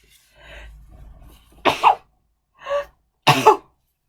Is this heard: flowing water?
no